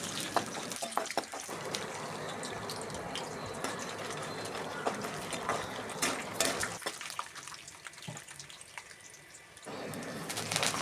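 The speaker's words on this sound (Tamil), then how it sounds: "கடுகு பொரியவும் கடலை பருப்பு சேர்த்துக்கலாம் அப்புறம் நிலக்கடலை பருப்பும் கொஞ்சம் சேர்த்துக்குவோம்" Mustard seeds, chana dal and peanuts frying in oil in a home kitchen, a quiet steady crackle and sizzle with occasional spoon and pan clinks.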